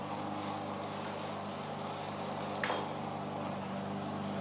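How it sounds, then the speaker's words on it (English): A neighbor's lawn mower running steadily nearby as a continuous engine drone with one brief click partway through, no talk. "My neighbors decided to mow his lawn exactly the time that I decided to do this."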